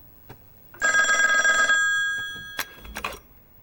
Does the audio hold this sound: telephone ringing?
yes